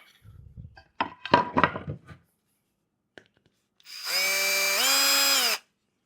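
A power drill driving a longer non-wood screw into a beehive knob on a cedar hive, preceded by handling knocks and rustles, then a loud close motor whine lasting under two seconds that rises slightly in pitch before stopping.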